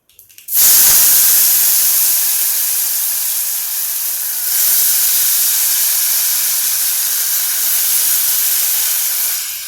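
A sudden loud hiss bursts out as potatoes drop into hot tempering oil, then a strong, steady sizzle continues for several seconds with a brief surge midway.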